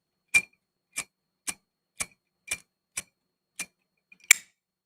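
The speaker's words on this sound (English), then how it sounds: "isn't there something very satisfying about the click and the feel of a Zippo?" A Zippo lighter's metal lid snaps shut in eight sharp, close clicks, evenly spaced about half a second apart, with the last one louder and slightly doubled. There is no other sound between the clicks.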